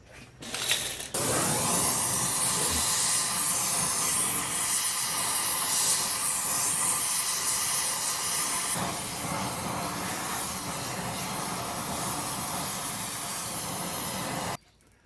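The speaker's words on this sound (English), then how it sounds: "I think I'm going to have to get the flamethrower on them" A flamethrower torch roaring steadily at close range while heating seized bolts on a 1975 C20 left in the woods, a loud continuous hissing blast that starts abruptly, shifts slightly midway and cuts off sharply near the end.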